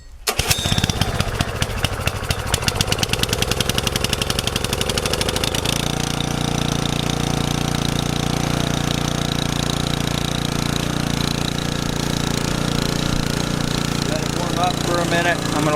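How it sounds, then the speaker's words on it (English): A gas log splitter engine runs at full choke as it warms up, starting with rapid sputtering pulses that settle into a loud, steady, close idle drone filling the whole stretch. "I'm not going to be able to talk a lot because the splitter's loud"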